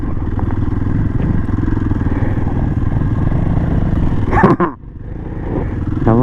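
A CIF 300L motorcycle rides over a rocky gravel trail up a hill, its engine droning loud and close with constant clatter of stones, then a sharp bang, a brief dip and the engine rising again.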